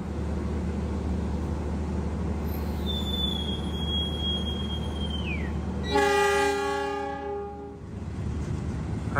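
An Argo Lawu passenger train rumbles steadily along the rails, with a high whistle tone midway and then a loud, layered horn blast near the end, heard up close and without talk.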